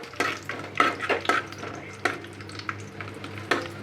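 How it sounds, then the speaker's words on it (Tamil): Seasonings spluttering in hot oil for a fish curry make bright, irregular crackling pops close by, mixed with clinks of a spoon against the pan, with no talking. "இது நல்லா பொரியணும்"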